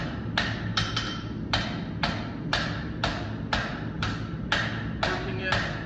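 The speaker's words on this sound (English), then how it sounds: "I'm working it with the round side of that hammer" Hot steel being drawn out on an anvil with the round face of a hammer while forging a towel bar, heard as a steady rhythm of about a dozen sharp, ringing blows over a constant background hum.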